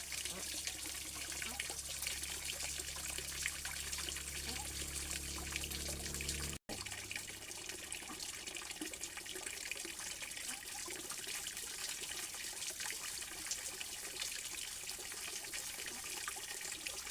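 Water trickles and pours steadily as it is filtered off pots of boiled colored rice, a soft continuous near stream with a brief drop in flow partway through and no talking.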